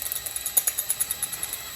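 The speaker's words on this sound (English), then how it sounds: "this will work a little better using the drill instead of impact" Power drill running in a barn while boring a hole for wiring, giving a high whirring buzz with a rapid rhythmic pulsing throughout, moderately close and without speech.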